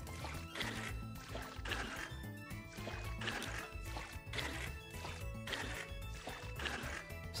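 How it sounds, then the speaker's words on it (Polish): A vat is filled with limewater in the video game Vintage Story: rhythmic, repeated splashing and pouring pulses at an even pace, fairly quiet, with no speech. "Nastawimy wodę wapienną"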